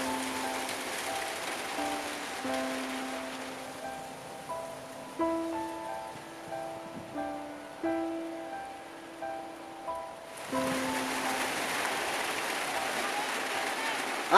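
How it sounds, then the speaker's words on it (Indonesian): Rain falls steadily over a village in Kampuang Tampang, West Sumatra, a constant close hiss that briefly softens while a tuneful voice carries over it, then returns in full. "lagi hujan nih"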